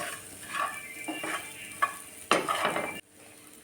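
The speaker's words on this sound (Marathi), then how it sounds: "छान व्यवस्थित मिक्स करून घ्यायचं आहे आपल्याला मीठ घातल्यानंतर छान असं मीठ सर्व मिरचीना लागलं पाहिजे" Green chillies being stirred with salt in a pan as part of a curd chilli recipe, giving a steady scraping, frying rustle with a few sharper clinks of the spoon before a brief drop to quiet.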